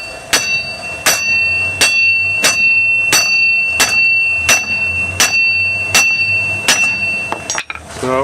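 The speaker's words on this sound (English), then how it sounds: "I was beating on it with a hammer, prying it." Hammer beating on a seized rear wheel hub of a 1997 Buick Park Avenue, about a dozen sharp ringing metallic strikes at a steady pace of under one per second, close and loud, with a faint scrape at the end.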